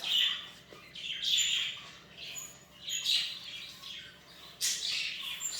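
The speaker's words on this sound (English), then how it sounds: "I'm sure you can hear all my birds in the background" Pet parakeets chatter almost without pause, mixing high chirps and sharp squawks in overlapping bursts. They sound fairly close, and nobody speaks.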